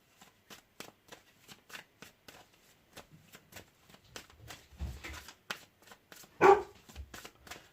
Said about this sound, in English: She sounds like an uffing great big dog.